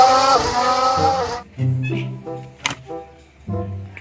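A toy F1 race car: a loud whirring motor whine at the start cuts off, followed by short bursts of lower buzzing and a few sharp clicks and clatters, close and with no talking.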